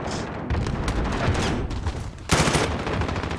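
Dense close-range gunfire from an M4 and an SMG during a competitive video game match, a continuous rattling burst that turns louder and harsher midway.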